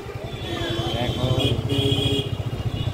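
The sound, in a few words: motorbike riding on the road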